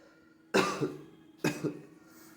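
Two harsh coughs about a second apart from someone with a cold, close and fairly loud, with quiet between them.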